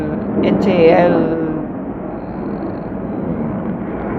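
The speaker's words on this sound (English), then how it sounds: "Now there's a plane. I hope you don't hear it" A low, broad rumble of an airplane passes overhead near an aircraft manufacturing site, swelling briefly then fading into a steady distant drone.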